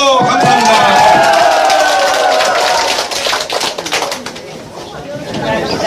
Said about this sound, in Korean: 자, 힘찬 박수!